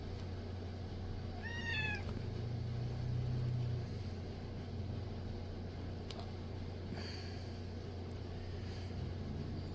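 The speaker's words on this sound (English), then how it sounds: "Apologize if you could hear my cat meowing in the background" A single faint, rising meow from a cat sounds early on against a constant low engine-like hum, and then only the drone continues.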